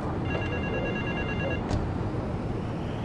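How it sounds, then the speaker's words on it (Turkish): An in-game telephone rings in the GTA Frosted Winter mod, a steady electronic ringtone repeating over a constant background hum, with no talking. "Telefon çalıyor."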